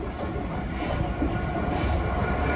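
A Class 66 diesel freight locomotive, number 66 501, rolls past on a south London line bound for Hood Junction, a steady close rumble of wheels and engine with faint clickety-clack, filling the short stretch without voices.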